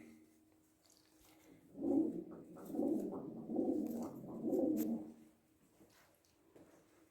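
Racing pigeons cooing in a loft in St. Gallen, Switzerland, with several soft, throaty coos repeating in a steady run of four or five pulses at close range before fading into quiet.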